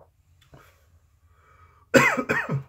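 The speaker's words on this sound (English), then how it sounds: "I know I'm coughing" A couple of harsh coughs after a sip of whiskey ring out close and loud after a quiet moment with faint breathing.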